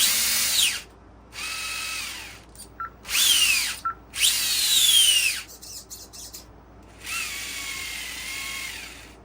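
Electric motor of a Boom Racing D130 RC crawler whining up and down in several short bursts, pitch rising and falling with throttle, close and fairly loud with quiet gaps between runs.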